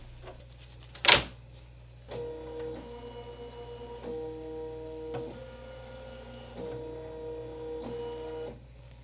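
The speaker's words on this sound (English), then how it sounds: "So now all I have to do is insert the hoop and trace it out." An embroidery machine traces the outline of a hoop set up for free-standing lace, giving a loud thump and then a steady run of rhythmic mechanical stitching pulses and whirring at close range.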